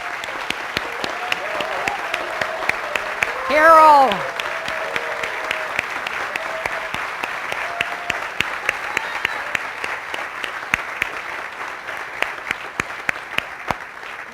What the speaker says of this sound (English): we want to give you all a big round of applause